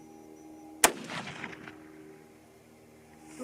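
A single sharp, loud rifle shot from a varmint cartridge (22-250 Rem or 243 Win) cracks out during accuracy testing, followed by a rolling echo that fades over a few seconds outdoors.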